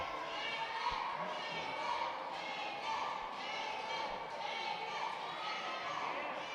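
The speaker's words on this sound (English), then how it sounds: "You hear the Southern Fried crowd chanting out for Ethan Dallas" Wrestling crowd at a Southern Fried Championship Wrestling show in Georgia chanting for Ethan Dallas, a dense, steady roar of many voices with rhythmic swells, moderately distant and continuous throughout.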